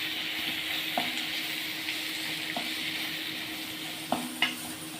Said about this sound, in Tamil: நல்லா வதங்கணுன்னா கருவேப்பிலை போட்டுக்கலாம்